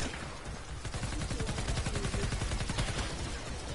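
Rapid video game machine gun fire, a dense continuous burst of shots running steadily for several seconds at close, loud level.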